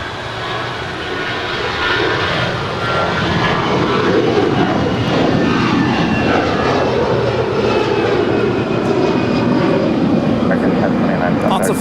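An airliner roars down runway 25 right at LAX on its takeoff roll, loud and continuous engine thunder that swells and holds steady throughout, with a radio voice heard over it.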